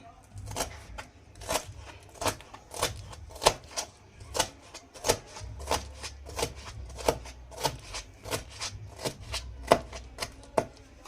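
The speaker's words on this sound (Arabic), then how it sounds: "اجيب الفلفل قدامكم واقطعه كله كده كده" A knife chops peppers on a cutting board in a home kitchen, about twenty crisp, fairly even knocks close by in a steady rhythm, with a voice talking quietly in between.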